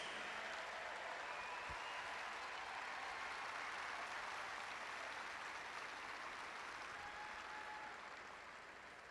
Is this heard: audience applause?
yes